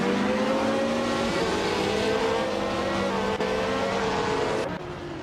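1950 Formula One race cars racing on the Botniaring circuit, a loud steady engine roar with shifting pitch held throughout, easing slightly near the end, with no talk.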